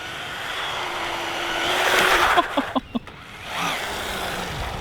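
A small MJX C3 WRC Citroen RC rally car whines through a loose run, its electric motor rising and falling as it is thrown into corners, with a few sharp clicks and a brief louder burst partway through.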